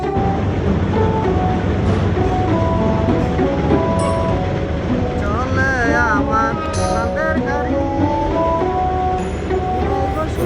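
A train rolls past near a bridge at Karkhana Bazar in Gazipur, a loud continuous rumble and rattle lasting throughout, with high squealing tones rising midway; voices are faintly mixed in.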